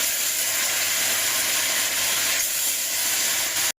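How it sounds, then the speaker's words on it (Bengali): Phasa fish, a small fresh river fish, fry in hot oil with turmeric, giving a loud, steady, steamy hiss that runs unbroken until it cuts off abruptly, with no voices. "এবার আমি এক এক করে ফ্যাসা মাছগুলো দিয়ে ভেজে নেব"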